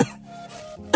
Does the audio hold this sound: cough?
yes